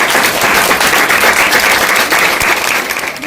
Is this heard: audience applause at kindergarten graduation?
yes